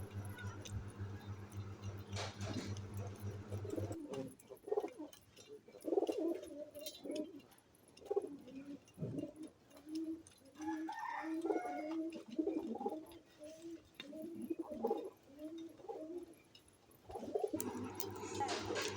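Pigeons and doves coo softly inside a home pigeon coop, with low, repeated, rolling calls overlapping at close range over a faint background rustle.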